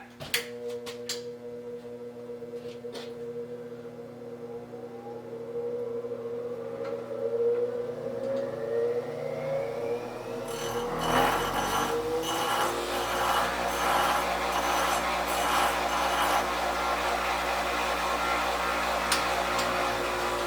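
A thin parting-off blade being sharpened on a small lathe for a steam engine build, heard as a rising whine from a spinning wheel or machine followed by a steady, louder grinding hiss.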